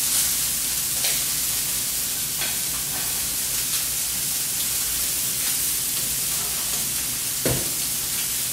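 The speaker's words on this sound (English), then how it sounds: "We're going to just sear them for like a minute and a half on each side." Meat sears in a very hot pan with a little oil, giving a steady, close, loud sizzle and crackle throughout, with a few brief louder pops and spits.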